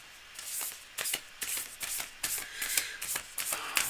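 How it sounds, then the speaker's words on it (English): A deck of tarot cards being shuffled by hand during a live reading, a series of quick papery riffles and flutters in short bursts, close and fairly loud, with no talk. "sorry, I got to keep shuffling."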